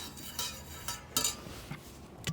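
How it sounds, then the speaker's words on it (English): A spoon scrapes and clinks against a cooking pot in a few brief, irregular strokes, close and fairly quiet, with no voices over it. "So, gotta keep stirring."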